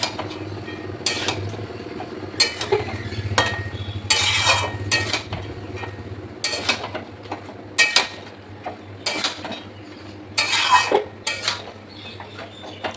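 Elephant foot yam and chickpea curry being stir-fried in a pan, with repeated sharp scrapes and clinks of a metal spoon against the pan in irregular bursts, close and fairly loud, separated by quieter gaps, no talking.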